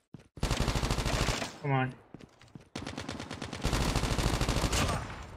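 Automatic gunfire in the mobile shooter CoD Mobile, loud and sustained rapid bursts that stop briefly and then resume in long strings, with a short spoken phrase in a pause.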